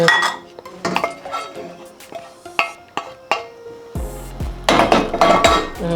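Boiled corn and potatoes tipped into a seafood boil pot, with clinks and knocks of utensils against the pot, then a louder tumbling clatter as everything drops in, close up.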